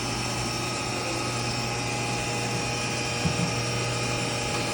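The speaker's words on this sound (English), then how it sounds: "There are some helical interpolation going on." A 1994 Haas VF-2 CNC vertical machining center running helical interpolation at about 3,500 RPM gives a steady, loud mechanical whine and hum with a constant tonal drone and no talking.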